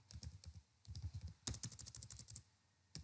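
Quick bursts of typing on a computer keyboard while entering code for a Node.js URL shortener, close and clear, with rhythmic key clicks separated by short pauses and no talking.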